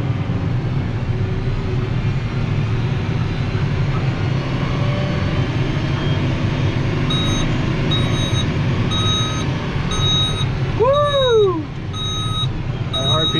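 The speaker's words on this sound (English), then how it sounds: "RPM's are at 2900, that's why it was beeping." Steady, evenly spaced warning beeps sound from a farm machine running at high RPM on steep hills, heard over a loud, constant engine drone, with a brief squealing sweep near the end.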